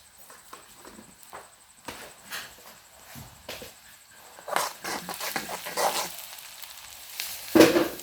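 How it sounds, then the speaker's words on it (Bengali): Onions frying in a pan with cumin seeds while making chicken khichuri: faint, intermittent sizzles and clinks at first, swelling into louder crackling sizzle bursts later on. "লাল লাল করে আমি পেঁয়াজগুলো ভেজে নিব।"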